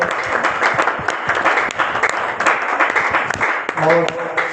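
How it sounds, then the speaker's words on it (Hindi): Loud applause from a crowd, with many hands clapping in a dense, steady burst for several seconds. "जोरदार तालियां।"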